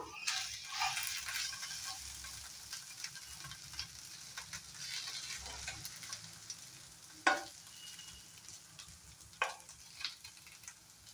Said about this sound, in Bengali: সুন্দরভাবে আলুগুলো মিলিয়ে দেব।